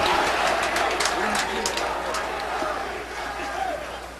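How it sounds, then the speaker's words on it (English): A large crowd at a bowling world championship roars and cheers in a sustained, loud wave of shouting that slowly eases, with a commentator's voice audible beneath. "And the crowd supporting Mika."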